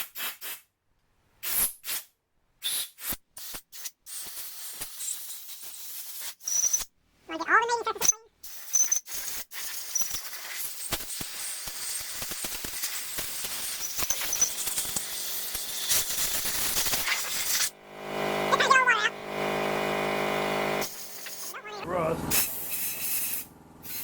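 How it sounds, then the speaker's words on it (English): Compressed air blasts through the oil passages and bolt holes of a 4.2 engine block during assembly, first in short sharp bursts, then in longer loud sustained hissing blasts. "I'm going to blow out all the oil passages."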